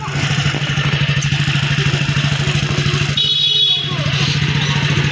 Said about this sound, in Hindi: ये जा रहे हैं बाइक पे।